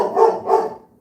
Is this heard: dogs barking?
yes